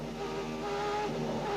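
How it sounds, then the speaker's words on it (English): Formula 1 cars from the 1990 French Grand Prix at Le Castellet accelerate hard through the circuit, a steady, loud engine drone with sustained harmonic whine and no talk over it. "At this part of the circuit, the cars are accelerating up to 195 miles an hour"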